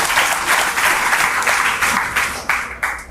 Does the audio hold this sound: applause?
yes